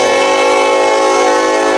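A freight train sounds its horn at a Main Street road crossing, one loud sustained multi-tone blast filling the whole stretch, close by and steady with no talking.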